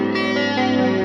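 Electric guitar ringing out through an engaged Chase Bliss Spectre through-zero flanger pedal, a loud sustained chord with a shifting, swirling tone and no talking.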